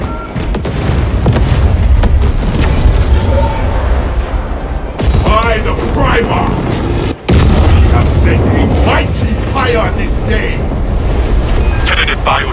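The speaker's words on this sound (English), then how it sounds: "I'll detonate." A detonation in the co-op game Space Marine 2 on an Inferno operation: dense, loud booming blasts and rumbling fire that roll on continuously without a break, with a short dropout partway through, under combat noise and some talk.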